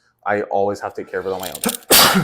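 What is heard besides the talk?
sneeze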